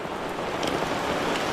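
Heavy rain pours steadily during a flood in a residential street, a dense, even hiss of rainfall close by with no pauses and no voices.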